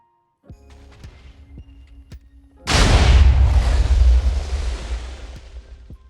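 A large blast of TNT explosions in Minecraft erupts as one loud broadband boom with a long rumbling decay, preceded by quieter mechanical clicks and ticks of redstone machinery.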